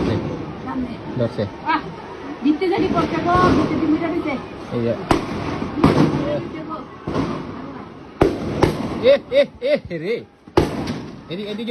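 Gunshots fired in an alley in Jatrabari ring out as several sharp, loud bangs spread across the scene, mixed with frantic shouting and raised voices throughout.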